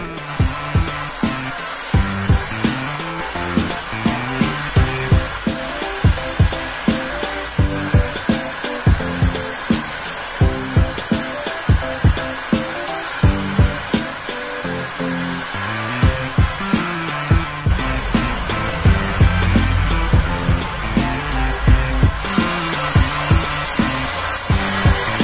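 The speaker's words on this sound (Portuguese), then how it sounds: "eu vou usar um soprador térmico" A heat gun blows hot air along the edges of vinyl flooring planks, a loud continuous whooshing roar that runs throughout, with a regular thumping pulse underneath.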